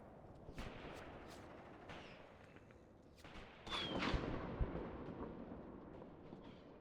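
Gunfire in the World War II video game Mius Front, a steady crackle of distant rifle and machine-gun fire with several sharper nearby shots and a louder burst of fire midway, no talking.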